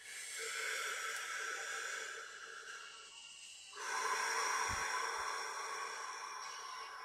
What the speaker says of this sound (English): Just keep on breathing.